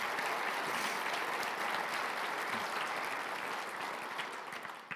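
Audience applause for President Armacost at a State of the City address, a sustained, even wash of clapping from a large room, heard from a distance and tapering slightly at the end.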